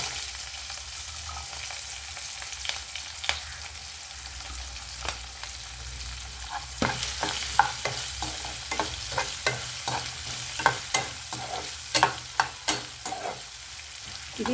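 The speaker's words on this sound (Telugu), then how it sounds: "తిరగమూత వేగిపోయిందండి. ఈ ఉల్లిపాయ ముక్కలు, పచ్చిమిరపకాయ ముక్కలు వేస్తానండి." Onion and green chilli pieces frying in hot tempering oil for a Telugu ridge gourd and brinjal curry, a steady sizzle broken by repeated clinks and scrapes of a stirring spoon.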